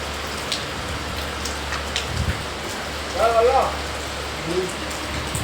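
Rain falls steadily at night, a close, continuous patter and hiss on surfaces with a few louder drops. A brief voice-like sound surfaces in the middle.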